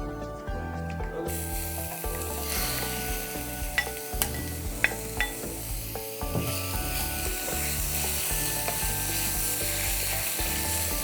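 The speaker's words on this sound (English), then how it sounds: "quickly fry off the chicken mince" Chicken mince sizzles in a hot skillet, with steady frying hiss broken by repeated scraping and stirring clinks of a utensil against the pan, close and moderately loud, without talk.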